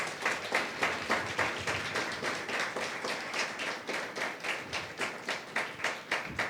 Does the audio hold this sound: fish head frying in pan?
no